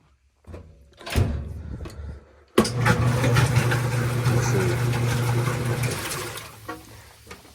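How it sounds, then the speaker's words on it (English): A top-loading washing machine's wash plate, driven by its transmission, agitates back and forth. A few knocks come first, then a steady motor hum with sloshing water runs for several seconds before it winds down. "when the wash plate is agitating back and forth, it's gonna spin this"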